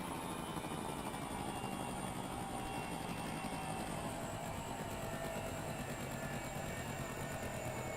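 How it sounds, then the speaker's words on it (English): A motorbike engine in the video game Nostos drones steadily without a break, a faint, even whine with a slowly falling pitch and no talk over it. "My bike sounds like it's not doing okay."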